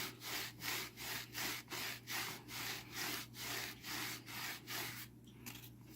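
Scotch-Brite pad scrubbing a Sears Suburban starter generator in about a dozen rhythmic back-and-forth strokes, close and quiet, steady rasping swishes with a faint hum underneath.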